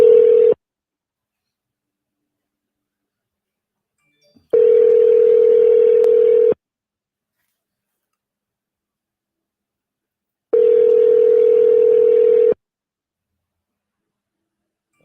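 An outgoing telephone call rings on the caller's end, a steady electronic ringback tone that sounds for about two seconds and then pauses for about four, heard three times over silence with no voices.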